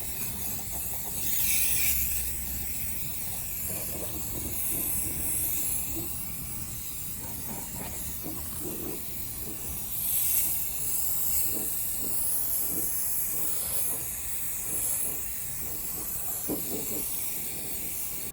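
Aerosol spray paint hissing onto a car's undercarriage outdoors, with a continuous close spray broken by short pauses and a few slight swells in level across the stretch, without voices.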